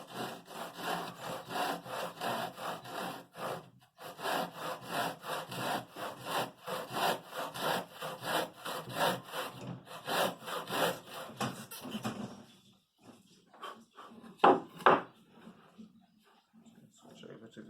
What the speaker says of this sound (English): There are better saws than this, but this is perfect really for a skilled swordsman.